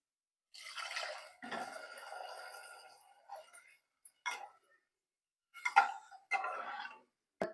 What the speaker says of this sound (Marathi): ठीक आहे, आता मी पाणी वतते